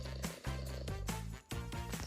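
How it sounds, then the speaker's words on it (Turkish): Soft rhythmic snoring purr from a cat in the video game Toca Life World, steady breathy cycles repeating about every half second under a low tonal background hum. "Bir horlama sesi geliyor. Kediden."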